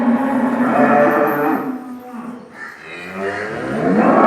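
High-yield dairy cows on a large farm give long, loud, low moos, one after another, close by.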